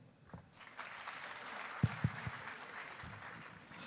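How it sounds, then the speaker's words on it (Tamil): A theatre audience at a film trailer launch event claps continuously, a steady mid-level wash of applause with a few sharper claps standing out, no voices. "ஒரு வாட்டி இன்னும் பலத்த கரகோஷம் கொடுக்கலாம்."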